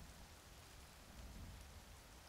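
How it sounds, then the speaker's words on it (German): Steady rain falls in the survival video game The Forest, a soft continuous patter and hiss with no voices over it, heard faintly and evenly throughout. "Bei Regen ist nicht cool hier."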